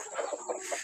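Domestic rooster in a backyard flock giving a few short, faint clucking calls close by, brief and soft rather than a full crow.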